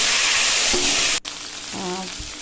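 Cumin seeds and bay leaves fry in a hot wok with a loud, bright, close sizzle, broken by a sharp clack partway through before the hiss resumes a little softer.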